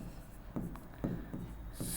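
Chalk or marker strokes on a classroom board during a maths lesson, a few short scratchy bursts at a steady pace, close and fairly quiet over room hum.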